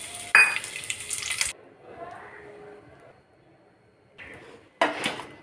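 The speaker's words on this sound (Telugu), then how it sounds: "జీడిపప్పు బాదం పప్పుని ఫస్ట్ రోస్ట్ చేద్దాం." Cashews and almonds roasting in ghee in a pan, a steady sizzle with stirring and metal scrapes, louder bursts at the start and end and a quieter stretch of gentle frying between.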